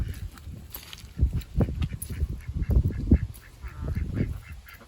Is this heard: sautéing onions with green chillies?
no